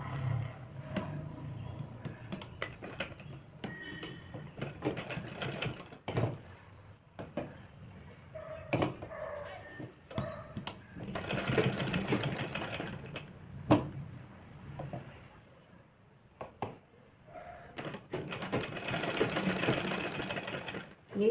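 Sewing machine stitching along the edge of piping on a belt blouse runs in steady bursts of rapid whirring and clicking, stopping and restarting, fairly close and moderately loud, with faint background noise.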